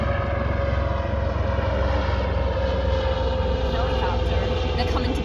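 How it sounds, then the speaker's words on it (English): A steady, loud aircraft engine drone with a propeller or rotor hum fills the whole stretch without pause, a continuous low rumble that stays close and even throughout. "Helicopter."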